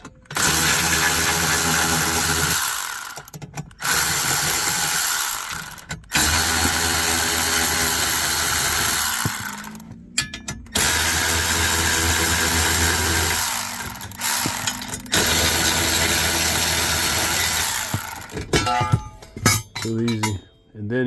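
A power tool rattles off four bolts holding a plate on a 2012 Chevy Malibu during an engine swap, in loud, buzzing bursts of a few seconds each separated by short pauses, with faint metallic clinks between them.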